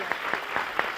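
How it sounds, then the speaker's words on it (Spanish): A studio audience on a television game show claps in welcome, a brief burst of steady, dense applause with rhythmic peaks, close and fairly loud. "vamos a darle un aplauso de bienvenida"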